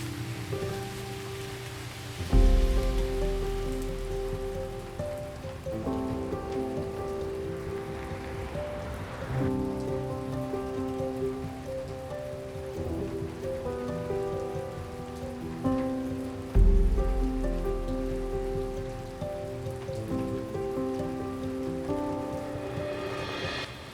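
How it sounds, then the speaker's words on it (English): Steady rain pattering down in Porto throughout, mixed with tonal background music and a couple of deep low rumbles, with no voices. "it started raining a bit too heavy right now"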